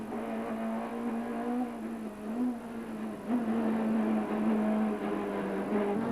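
Onboard a touring car in a mid-1990s Spanish championship, a steady engine note holds at high revs. Small dips and lifts in pitch come as the car shifts and corners, under continuous wind and road noise.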